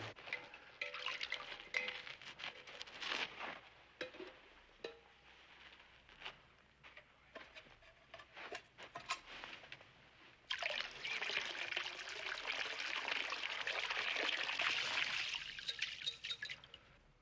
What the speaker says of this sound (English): Finish up with the water, April.